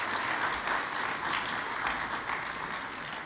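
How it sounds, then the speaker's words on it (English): An audience at a White Coat Ceremony applauds in a steady, full round of clapping that holds evenly and then tapers slightly toward the end. "give them a round of applause"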